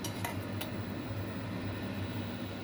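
A metal lid set onto a soup pot on a Hong Kong home stove gives a couple of short, bright clinks near the start, then fades into a steady low kitchen hum with no talking.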